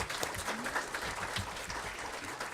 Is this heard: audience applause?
yes